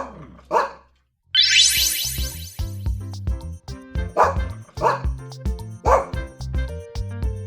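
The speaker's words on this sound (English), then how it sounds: "Congratulations, it's a little dog." A little dog barking in a series of sharp yips at a regular pace over a bright music backing, with a short rising sweep effect before the barks start.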